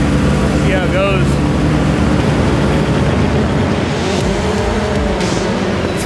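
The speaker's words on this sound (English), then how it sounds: "Three Subarus take to the line." Three Subaru rally cars launching from a start line, a loud, dense roar of engines and tyres filling the whole stretch, with a brief rising whine early on and a commentator talking over it.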